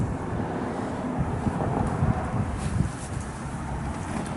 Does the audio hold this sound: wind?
yes